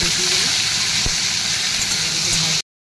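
Cauliflower fries in oil in a wok, a loud, steady sizzling hiss that holds close and constant before cutting off abruptly.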